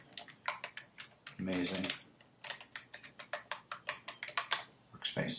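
Typing on a computer keyboard, a steady run of close, crisp key clicks over about five seconds, with a person speaking briefly partway through.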